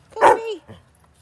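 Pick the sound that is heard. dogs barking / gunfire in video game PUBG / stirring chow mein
dogs barking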